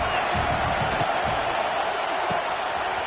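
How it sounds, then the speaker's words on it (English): Broad stadium crowd roar at a Clemson vs LSU college football game, a steady, loud wash of cheering and noise that holds for a few seconds with no clear voice standing out. "this crowd trying to help keep them there"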